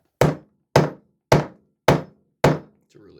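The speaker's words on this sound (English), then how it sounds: "I always like to give it a couple taps just with the flat part of the hammer" Five evenly spaced, sharp hammer taps with the flat face of the hammer on a rivet dome during a bronc riggin restoration, each a crisp, close knock that decays quickly, followed by a faint rustle.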